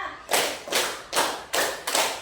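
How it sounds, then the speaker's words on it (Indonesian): A classroom of students claps together in five rapid group bursts, each a sharp smeared wash of many hands, evenly spaced about half a second apart, close and fairly loud. "tepuk 5, tepuk 3, tepuk 2, tepuk 5"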